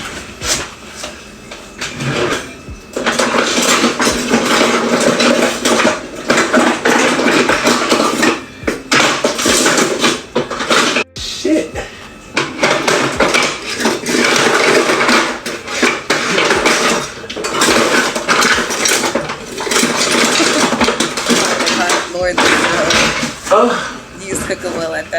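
Pots, pans and cutlery clatter steadily and loudly as someone cooks at home, metal clanks and scrapes running almost continuously, with people talking over it.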